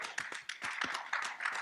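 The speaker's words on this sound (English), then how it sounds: "I'm glad the county executive is clapping" A county executive clapping at a civic event, a series of sharp, fairly close handclaps in an uneven rhythm, roughly a dozen strikes, with no talk over them.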